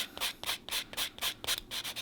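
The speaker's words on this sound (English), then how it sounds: "I'm just gonna go ahead and just buff my natural nails" Nail buffer rubbed over natural fingernails in steady back-and-forth strokes, about eight even swishy passes in two seconds, close and fairly quiet with no talk.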